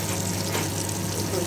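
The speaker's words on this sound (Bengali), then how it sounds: "ওই জন্য আমি আজকে একটু তেল দিয়ে ভেজে ফেলছি।" Steady close sizzle of peas-stuffed kachori deep-frying in hot oil, a continuous bubbling crackle that stays even from start to finish, with no voice over it.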